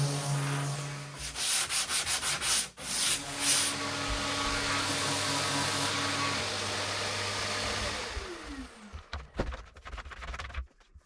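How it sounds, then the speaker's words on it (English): Steady, loud rasping of sanding on wooden cabinet doors, continuous for several seconds with a brief pause, then tapering into scattered scrubbing strokes. "everything can get a quick rub down and a coat of primer"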